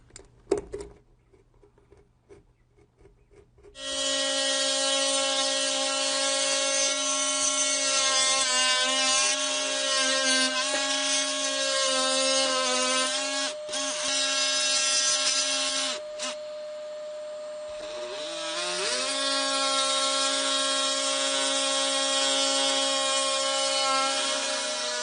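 Power saw cutting through a painted ceiling where a light fixture is being installed, a few faint knocks, then a loud steady motor whine running for about twenty seconds with brief dips as the cut progresses.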